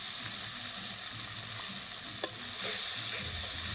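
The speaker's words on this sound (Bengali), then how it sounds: "হালকা একটু নেড়ে নিয়েছি" Spice masala frying in oil for a Bengali rasgulla curry is stirred in a pan, a steady close sizzle with a few scraping stir strokes and no talk.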